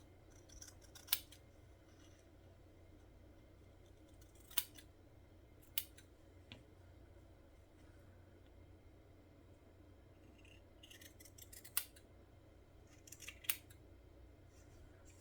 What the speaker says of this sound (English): I'm just going to go ahead and trim up right to the edge